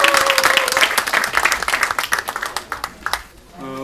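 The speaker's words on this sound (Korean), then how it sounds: "우리 그 수고하신 우리 전임 원내대표부에 다 함께 우리 박수 한번 부탁드립니다" Applause from a political party assembly honoring the outgoing floor leadership team, dense clapping from a crowd that thins and fades near the end, with a voice briefly rising over the tail.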